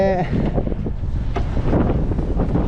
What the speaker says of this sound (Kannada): ತಣ್ಣು ಗಾಳಿ ಬೀಸ್ತಾ ಇದೆ